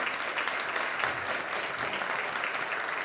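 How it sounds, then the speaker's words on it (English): Audience applause after a state House Democrats town hall event in Newton, Kansas: a steady, even roar of many hands clapping, moderately loud and sustained with no talk over it. "Can we get a round of applause for these amazing legislators?"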